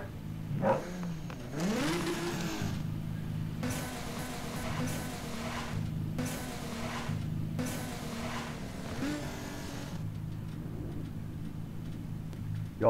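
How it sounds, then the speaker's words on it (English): In a roleplay driving game, a car engine with nitrous revs repeatedly, rising in pitch in several bursts separated by short drops, with a loud whooshing surge on each push. "I'm just testing out my nitrous."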